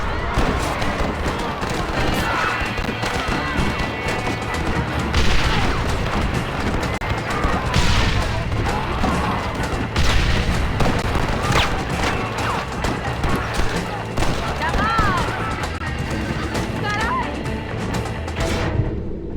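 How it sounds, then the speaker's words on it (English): Sustained gunfire in a Red Dead Redemption shootout, rapid overlapping shots and crashes in a dense loud barrage, with voices shouting over the chaos. "Stop shooting!"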